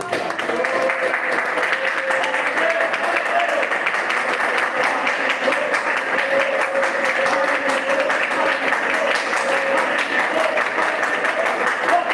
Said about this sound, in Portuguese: Vamos bater as palmas e vamos adorar o nome do Senhor.